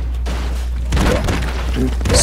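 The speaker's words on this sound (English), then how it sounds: "So many explosions." Explosions in the 2D action game Broforce, a burst of rapid booms and crackling blasts crowding over one another, loud and close for about two seconds.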